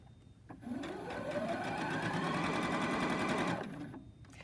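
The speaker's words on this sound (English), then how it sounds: "it raises my presser foot, and then I can sew some more" A sewing machine stitches in one continuous burst of rapid, even whirring that rises after a click, holds steady for about three seconds and then stops, close and clear with no talk.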